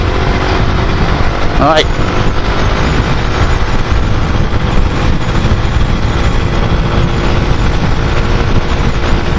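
An MLE XTM-R, a cheap Chinese motard motorcycle, ridden uphill at full throttle, its engine a loud, steady drone under heavy wind rush for the whole stretch, with a brief spoken word near the start.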